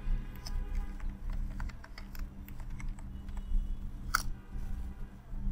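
Close keystrokes on a computer keyboard as a root password is typed during a MariaDB setup on Debian 12: light, irregular clicks over a low steady hum, ending in one sharper tap.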